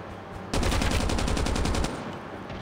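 RDP machine gun firing in Call of Duty Mobile, one loud rapid burst of evenly spaced shots lasting over a second, then a quieter tail.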